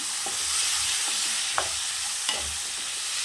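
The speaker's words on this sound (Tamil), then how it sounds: "பீன்ஸை சேர்த்துக்கலாம் ஏன்னா நம்ம டக்கு டக்குன்னு சேர்க்கணும் இல்லாட்டி நல்லா கருகிரும்" Green beans frying in hot oil for a beans gravy, a continuous hiss of sizzling with a few sharp stirring clicks and scrapes close by.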